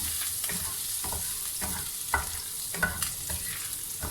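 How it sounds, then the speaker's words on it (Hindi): Ginger warms gently in hot oil for chicken and vegetable spring rolls, giving a steady close sizzle broken by soft rhythmic stirring scrapes every half second or so. "अदरक को हमने ब्राउन नहीं करना, बस जस्ट इस तरह हल्का सा गर्म हो जाए"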